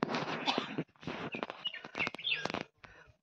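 Several birds chirp and tweet in short bright bursts around an evening village in Ratnagiri district, with scattered calls overlapping and a few pauses between them, fairly close and moderately loud.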